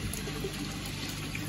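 Water from an aquarium filter on a Nexus 220 skimmer setup flows steadily through floss and sponges down onto ceramic media, a faint, even trickling rush with no break.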